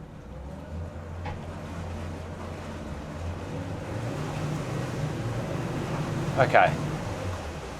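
Low, steady rumble of a Boston Whaler 330 Vantage's idling engines beneath wind and water noise, with a brief spoken word and a short clatter near the end.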